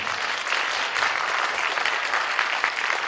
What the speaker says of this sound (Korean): 큰 박수로 한번 더 보내주세요.